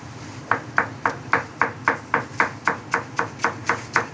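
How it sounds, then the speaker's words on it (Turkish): Steady knife chopping of fresh herbs on a cutting board, about a dozen crisp even strokes in a regular rhythm, close and clear with no talking. "Yeşilliklerimi doğruyorum."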